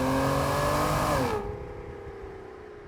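A V12 Aston Martin DB9 driving on a night run, its engine a loud steady drone that sags in pitch partway through and then settles into a quieter, lower hum.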